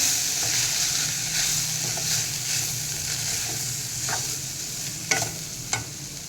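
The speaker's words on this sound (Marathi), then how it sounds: "गवार थोडी शिजलेली आहे त्याच्यामध्ये ना आता आपण हे सगळे मसाले घालूया मिक्स करून घेऊया" Spices stirred into cluster beans in a pan, a continuous close sizzle with soft scraping of the spoon and a couple of sharp metallic knocks near the end.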